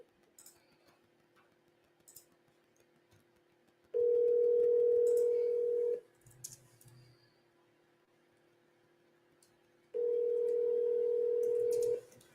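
A phone call to a seller rings out: two long ringback tones about six seconds apart over a faint hum, with small clicks between and no talking.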